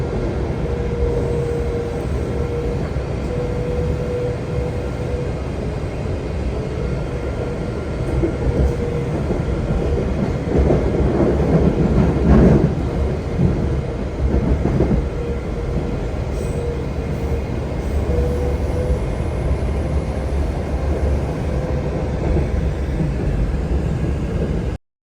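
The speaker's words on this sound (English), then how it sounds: "Check it out, as the Acela's going to blast into warp speed at any second." An Acela high-speed train in Washington, DC rumbles loudly and continuously for the whole stretch, a steady rolling roar that swells slightly near the middle.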